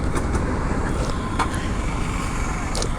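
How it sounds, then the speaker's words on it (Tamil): A Hero Karizma R motorcycle being ridden gives a steady engine hum under strong wind rush, with a few brief clicks and knocks along the way. "சவுண்டு வந்து பார்த்திங்கன்னா ஒரு மாதிரி சலன்னு கேட்கும் இந்த வண்டியில்."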